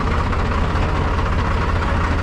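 Tractor engine running steadily up close with a deep, even diesel rumble as it is put into gear in a village setting, with no talking.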